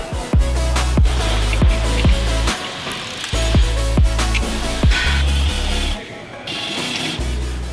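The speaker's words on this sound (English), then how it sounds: "If we pull off the brake drum, now the brake shoes is exposed." A brake drum being pulled off the axle hub of a 5.5 t GIGANT rigid trailer axle during a brake lining change: a run of close, sharp metallic clicks and clunks with a low rattle between them, loud and repeated.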